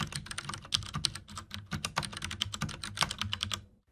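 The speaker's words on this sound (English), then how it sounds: "Cherry MX brown key switch." Typing on Cherry MX Brown mechanical key switches of a Kinesis Freestyle Pro keyboard, a quick uneven run of close, crisp key clacks that stops near the end.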